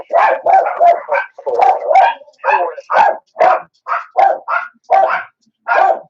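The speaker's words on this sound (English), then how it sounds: "I got some dogs barking in the background here. You can hear them." Several dogs barking in the background, a run of sharp, loud, evenly spaced barks and yips with brief pauses and no voices over them.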